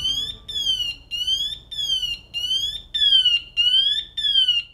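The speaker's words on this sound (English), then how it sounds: "Within 20 seconds of emergency, these devices put out a graduated chirping sound" A firefighter's PASS device alarm sounds a loud, high electronic chirp that repeats in a steady pulsing pattern, about eight sweeping tones in quick succession, with no voices.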